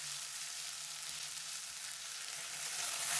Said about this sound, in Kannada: ಚಾಪ್ ಮಾಡ್ಕೊಂಡಿರೋ ಈರುಳ್ಳಿ ಸೇರಿಸ್ಕೊಳ್ತಾ ಇದ್ದೀನಿ. ಮಿಕ್ಸ್ ಮಾಡ್ಕೊಳ್ಳೋಣ. ಚೆನ್ನಾಗಿ ಫ್ರೈ ಮಾಡಬೇಕು.